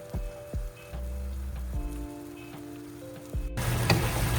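Onion paste cooking in oil for a spicy Indian garlic prawn roast, a soft intermittent sizzle with a few spoon knocks that swells into a louder, denser fry near the end, no voices.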